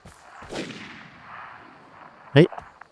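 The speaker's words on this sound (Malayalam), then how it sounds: "ഒരു വെടിവെച്ചല്ലേ കേട്ടേ" A gunshot in the online survival shooter game Vigor, a single sharp crack ringing out late after a softer earlier thump, loud and close against otherwise quiet surroundings.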